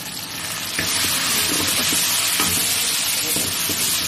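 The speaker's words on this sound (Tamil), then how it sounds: "வெங்காயம் வதங்கின முன்னாடி ஒரு 1/4 கிலோ தக்காளி போடுறோம்" Roughly a quarter kilo of tomatoes goes into a pan of softened onions for a fish curry and fries with a steady, close hiss, while a spoon scrapes and stirs through the sizzle in irregular knocks.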